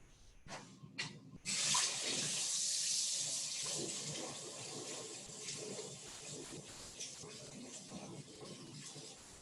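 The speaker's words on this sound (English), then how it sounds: "And now I'm going to wash my hands so we can start cooking." Tap water running steadily into a kitchen sink as hands are washed, starting after a few small clicks and continuing as an even splashing rush, close by.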